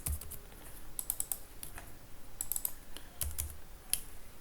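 Keys clatter on a computer keyboard in irregular bursts of quick taps while a username is entered into a web form, close and moderately quiet, with no voices.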